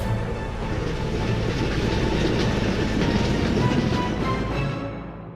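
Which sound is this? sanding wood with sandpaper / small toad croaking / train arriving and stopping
train arriving and stopping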